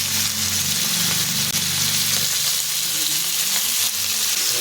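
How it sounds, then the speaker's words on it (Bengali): Marinated chicken for chowmein sizzles loudly in hot oil in a wok, a dense, steady frying hiss that holds through the whole stretch with no voices. "তেলটা গরম হলে যে চাউমিনের জন্য চিকেনটা ম্যারিনেট করেছিলাম ওটা এর মধ্যে দিয়ে দিচ্ছি।"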